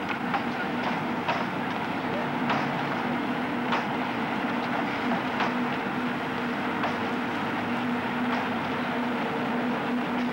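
A special train pulls into Hamburg station with a steady rolling rumble and evenly spaced clacks of wheels over rail joints, a low hum running beneath, moderately close.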